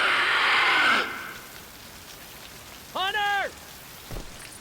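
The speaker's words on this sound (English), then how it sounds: "This rain ain't letting up." Rain pours in a zombie video game, a loud hissing downpour for about a second that then drops away, leaving quiet background as a character's voice speaks briefly.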